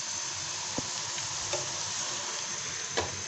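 Okra deep-fries in hot oil with a steady, close crackling sizzle, broken by a few light ticks and taps.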